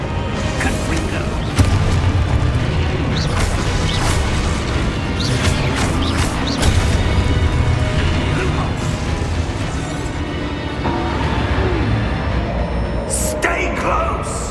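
Booming blasts and crashing impacts from the Confringo fire spell in Hogwarts Legacy fill a dense, loud, continuous battle mix, with spell effects layered over constant mechanical clatter and rumble.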